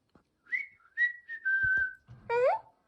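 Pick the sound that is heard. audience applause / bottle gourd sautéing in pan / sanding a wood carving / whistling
whistling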